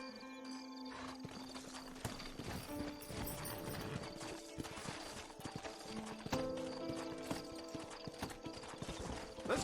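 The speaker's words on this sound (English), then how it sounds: "Horses are over here!" Horse hooves clip-clop steadily in Red Dead Redemption, a close rhythmic trot running throughout under busy game music, with an occasional whinny.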